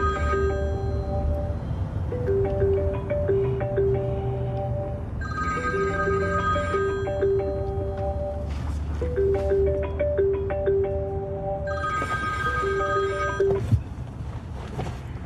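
A telephone rings repeatedly in a tuneful melodic pattern, bursts of bright electronic tones repeating in cycles over a steady low background hum, fairly loud and with no talk.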